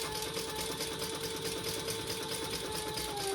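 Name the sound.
sewing machine stitching a row on a wallet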